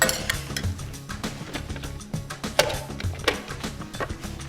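Capellini pasta tossed with tomatoes and basil in a bowl, giving irregular soft wet clatters and utensil scrapes in quick bursts with a light background sizzle.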